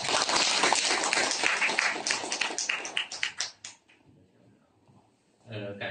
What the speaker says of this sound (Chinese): 我们下面就以热烈掌声欢迎